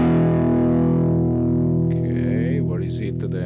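Distorted electric guitar played through the MF Two-Stone 35 factory preset on a Fractal unit: one thick sustained chord that rings loud and slowly fades, with some brighter string noise entering toward the end.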